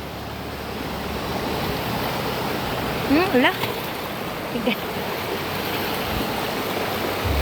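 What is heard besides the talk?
strong river current flowing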